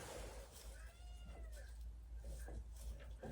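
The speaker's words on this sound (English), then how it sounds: "That's just the kitten." A kitten gives several faint, high meows in a barn with a sick donkey, each brief call rising and falling over a low background hum.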